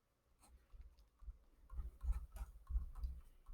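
Pen or pencil writing on paper during a calculus session, a soft scratchy patter of strokes with short repeated bursts, fairly close and quiet, with no talking.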